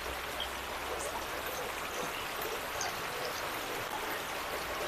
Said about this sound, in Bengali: কত বৃষ্টি হয়েছে জোরে জোরে পুরো অন্ধকার